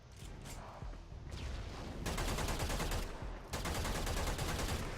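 Braton Prime rifle in the Warframe video game firing rapid, loud bursts of shots against a heavy gunner, with a dense rattling stretch of continuous fire in the second half and no talk.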